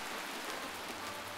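Steady soft hiss of falling rain in the video game Death Coming, even and unbroken, with no voices.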